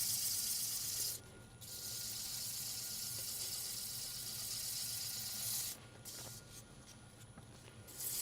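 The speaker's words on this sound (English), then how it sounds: "Or I might have to go just a shade bit coarser on the sandpaper." Sandpaper rubs steadily over a cypress hollow form with light pressure, a loud, continuous rasping hiss that breaks off briefly twice before resuming.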